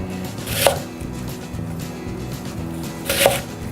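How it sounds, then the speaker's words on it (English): Knife chopping an onion into square pieces on a cutting board: two crisp, distinct chops about two and a half seconds apart over a quiet background hum. "I'm just going to do a regular square size chop."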